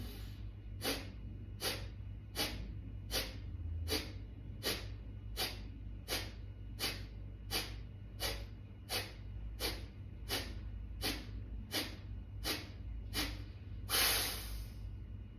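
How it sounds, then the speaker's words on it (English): Quick, forceful Kapalabhati exhalations puff out in a steady, evenly spaced series of about eighteen sharp nasal bursts, close and alone over a low background hum. "You are simply doing quick and forceful exhale."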